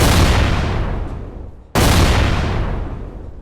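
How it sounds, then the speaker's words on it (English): Two heavy booming blasts on a battlefield, one right after the other, each with a long rumbling decay that fills the low end. "And then the explosion occurred."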